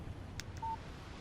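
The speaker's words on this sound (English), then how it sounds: "Text message from Barry." A phone's text message alert chimes once in the Alan Wake video game, a brief electronic beep with a short single tone following, quiet and clean with no talk.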